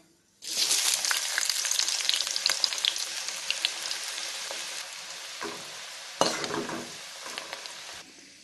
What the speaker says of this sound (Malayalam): ആദ്യം സവാള പൊരിച്ചെടുക്കാം